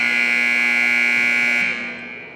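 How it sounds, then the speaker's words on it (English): A loud, sustained electronic buzzer sounds at a 9th grade basketball game, a harsh steady tone that holds for about two seconds before cutting off and fading. "You heard the buzzer, so you know what time it is."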